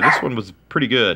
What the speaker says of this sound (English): sorry about my dogs, but they're gonna go off from time to time on my vids